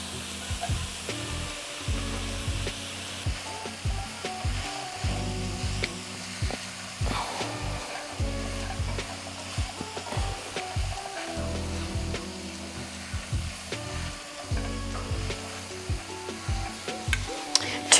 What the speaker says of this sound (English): So I'm gonna add in the lentils that we cooked earlier.